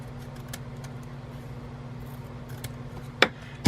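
Scissors cut a sheet of paper in half at a planner desk. A quiet, low hum runs throughout, then one crisp snip and a sharper cutting sound land near the end.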